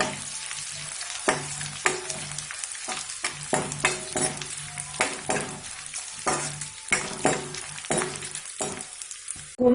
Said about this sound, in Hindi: इसी तरीके से हम सारा गोंद सेक लेते हैं।